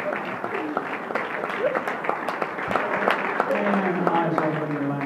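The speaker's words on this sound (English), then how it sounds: "Give them all a nice big round of applause." Audience applause for hypnosis show subjects at a stage hypnosis performance, steady dense clapping over five seconds with faint voices and murmur mixed underneath.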